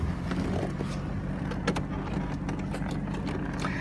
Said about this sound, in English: that big Northstar fires right to life